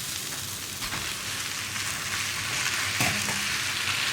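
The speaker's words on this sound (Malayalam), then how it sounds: "നമുക്കിതിലേക്ക് കുക്ക് ചെയ്ത് വെച്ചിരിക്കുന്ന നൂഡിൽസ് ഇട്ട് കൊടുക്കാം." Cooked noodles sizzle in a hot pan with masala and vegetables, a continuous loud frying hiss broken by occasional scraping stirs.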